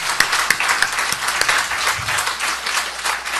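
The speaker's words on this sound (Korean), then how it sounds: "사모님께 우리 박수 한번 쳐주시기 바랍니다" A church congregation at a thanksgiving service applauds the pastor's wife, a lively burst of many hands clapping with a few sharp nearby claps standing out, fairly loud and steady throughout.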